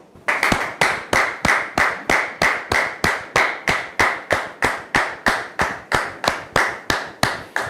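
Studio audience clapping in unison to welcome a guest, loud, close claps in a steady, fast, regular rhythm that keeps an even beat from start to finish.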